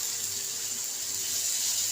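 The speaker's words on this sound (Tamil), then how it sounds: "இப்போ இதில் 1/4 டம்ளர் வந்து தண்ணி சேர்த்துக்கணும்" A quarter tumbler of water poured into a ripe mango pickle mixture, a steady close splashing gush that holds for the whole span with no voices over it.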